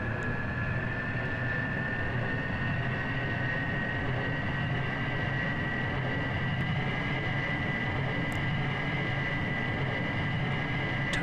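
A space plane in Kerbal Space Program rolls down the runway and lifts off, a steady, loud engine drone with a constant high whine that holds even throughout, with no talking.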